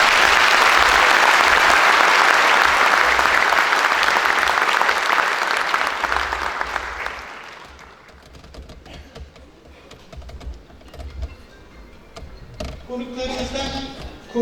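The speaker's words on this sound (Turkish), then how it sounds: "konuklarımız için çok güçlü bir alkış rica" Audience at a candidate introduction meeting claps loudly and densely for guests, the applause fading out after several seconds into quieter room noise with scattered sounds and a voice near the end.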